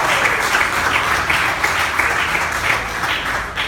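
A church congregation claps in steady, dense applause during a worship service, loud and continuous throughout without any talk.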